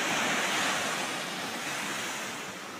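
An ocean wave washing up a beach where baby turtles are hatching, a loud, steady rushing hiss of surf close by, slowly easing off at the end.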